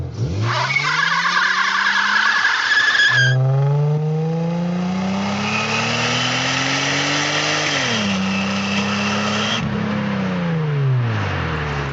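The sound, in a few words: Toyota Camry wagon V6 tires spinning under hard acceleration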